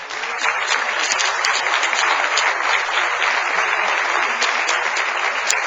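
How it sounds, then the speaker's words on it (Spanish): Steady applause from a congregation at a church Bible study, dense and continuous clapping filling the room at an even level throughout, with no voices standing out. "Denle un aplauso al Señor."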